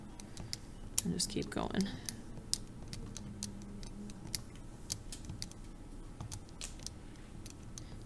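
Calculator keys pressed one by one while entering numbers and hitting enter, light clicking taps scattered at an uneven pace under a quiet voice talking.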